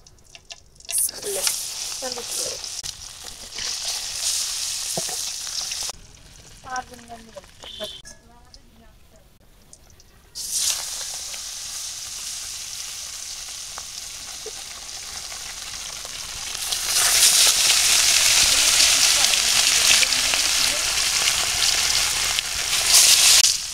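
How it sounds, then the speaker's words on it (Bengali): Fish frying in a pan in a village kitchen, a steady sizzle that swells loudest near the end, with stretches of talk and clattering handling sounds earlier on. "একটা মাছ আগে ভাজি"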